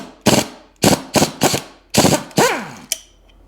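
Hand ratchet wrench working half-inch bolts loose on a 2003 Sea-Doo 4-TEC 185 engine during a rebuild, heard as six close, sharp ratcheting bursts with short pauses between them.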